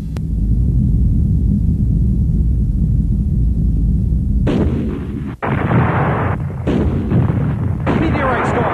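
Heavy booming explosions from a meteorite storm in a Star Trek TV show rumble continuously, then sharp bursts and blasts crackle in rapid succession, loud and close.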